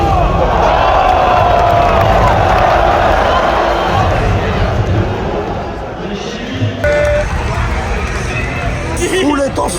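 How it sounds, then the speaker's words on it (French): A large crowd at an esports Major in Paris roars and cheers loudly and continuously, a dense wash of voices and shouting close around, with talk mixed in. "La foule est en folie."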